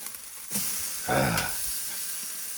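Hamburger patties searing on a Weber kettle barbecue give off a steady close hiss, with a louder sizzling burst when the meat is shifted on the grate.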